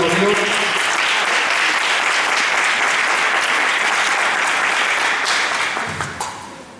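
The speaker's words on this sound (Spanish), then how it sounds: "un aplauso" Loud, continuous applause fills a large synagogue hall as a guest speaker is welcomed, many hands clapping in a dense, even roar that tapers off near the end.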